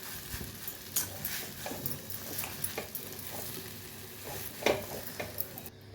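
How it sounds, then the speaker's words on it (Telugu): Grated raw mango frying in oil for mango pulihora, a soft continuous sizzle with irregular stirring knocks and scrapes of a spoon against the pan. "మామిడికాయ తురుము వేసినాం కదా, దీన్ని పచ్చివాసన రాకుండా వేయించుకోవాలి."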